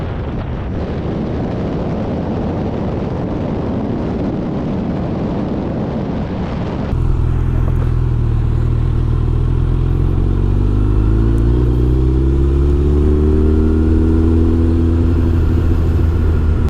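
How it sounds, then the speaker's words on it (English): Suzuki Hayabusa motorcycle at night, its engine running up close with a low rumble that becomes louder and deeper partway through, revving with rising and falling pitch. "Alright, Marasakas, the Hayabusa is here"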